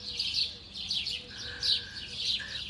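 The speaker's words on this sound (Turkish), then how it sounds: "Bak bak, kuşlar dut yiyor şimdi" Several small birds chirp and tweet in quick, overlapping bursts, fairly close by, against a quiet background, while eating mulberries in a tree.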